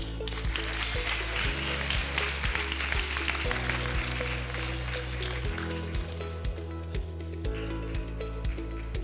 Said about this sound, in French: On peut les applaudir encore une fois, s'il vous plaît.